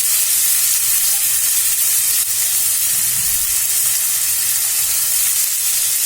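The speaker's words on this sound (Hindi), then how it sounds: "अब इसमें हम कटी हुई टमाटर डालेंगे।" Chopped tomatoes frying in a pan over onions, giving a loud, continuous close sizzle with a brief stir partway through, and no talk.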